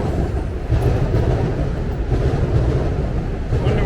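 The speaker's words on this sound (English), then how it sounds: "I think that's a train from Croton Harmon" A commuter train passes in Manhattan, rumbling steadily nearby, a continuous low roar with rattling texture that holds for several seconds.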